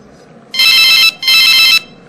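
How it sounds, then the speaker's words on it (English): Phone ringtone from a call in Genshin Impact, sounding in two loud bright bursts of about half a second each, separated by a short pause, over a faint background hum. "it's a phone call ringing"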